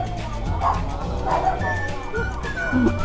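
A dog gives a few short, yipping barks during a Portal 2 co-op game session, set against steady game sound with voices talking over it.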